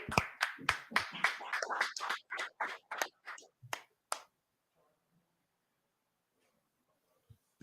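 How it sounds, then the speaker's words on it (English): A group at a religious brotherhood class claps in rhythm, with about a dozen sharp, evenly spaced claps over four seconds mixed with voices. Near silence follows. "let's go ahead and clap it up"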